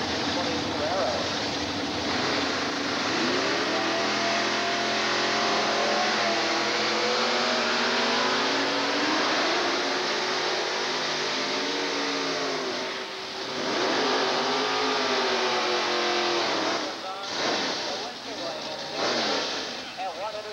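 A 1990 Camaro drag car launches and accelerates hard down a Texas Motorplex strip, its engine roaring loudly and steadily climbing in pitch through gear changes, with a track announcer talking over it throughout.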